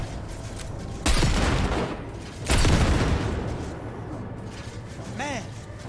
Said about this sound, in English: Quite the fireworks show.